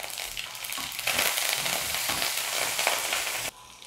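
Green chili, a small piece of ginger and curry leaves fry in hot coconut oil, giving a bright, crackling sizzle that jumps louder partway through and then drops back.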